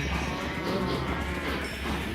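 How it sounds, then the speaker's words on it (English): Several cows in the Minecraft video game moo in a steady, overlapping chorus that fills the whole stretch, loud and close with no pauses. "Look at all of those cows."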